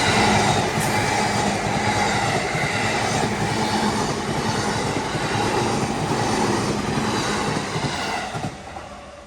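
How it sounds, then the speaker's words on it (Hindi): Train passing a railway crossing in Tokyo, Japan, early in the morning. A loud, continuous rumble of wheels on rails holds steady throughout and fades slightly toward the end, with no talking. "फाटक ऑटोमेटिकली बंद हुए है और ट्रेन देखें आप गुजर रही है।"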